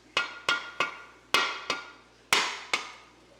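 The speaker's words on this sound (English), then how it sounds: "I just start hammering and just like, see what happens." Hammer blows cracking a rock-like aquarium cave decoration, seven sharp, ringing strikes at an uneven pace, close and loud, each fading quickly, with no talking.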